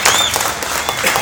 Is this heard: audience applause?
yes